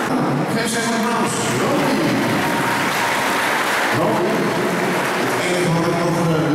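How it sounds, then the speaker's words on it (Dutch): A crowd at a horse demonstration event gives loud, sustained applause, dense clapping filling the space, with voices faintly mixed in beneath it. "Geef ze even een applaus."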